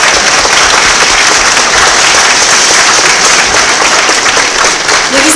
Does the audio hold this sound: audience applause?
yes